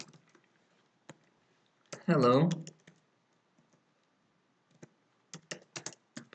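Code typed on a computer keyboard: a sparse run of isolated key clicks, then a quicker cluster of taps near the end, broken by a short burst of voice partway through.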